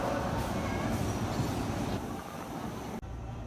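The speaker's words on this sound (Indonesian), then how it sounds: "Ini keretanya sudah tiba." Commuter rail cars rumble and rattle into a station with a broad, whooshing roar that eases off near the end.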